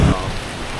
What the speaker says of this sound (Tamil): செம்மையாக மழை பெஞ்சிக்கிட்டு இருக்குது.